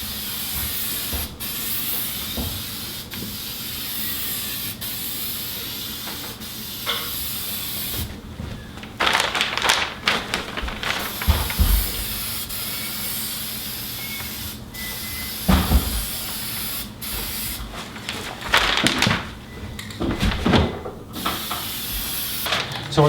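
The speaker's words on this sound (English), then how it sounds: "So we're spraying these things." Black spray paint hisses from an aerosol can onto brass fireplace parts in bursts, several long sprays with short pauses between, loud and close with no talking.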